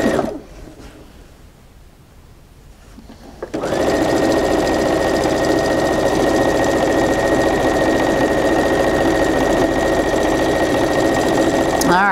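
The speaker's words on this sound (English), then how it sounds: "So I'm just going to line that up with the edge of my block and go ahead and sew that." A sewing machine stitches a quilt strip onto a block, starting after a quiet pause and then running loud, fast and continuous with a steady mechanical whir and rapid needle chatter.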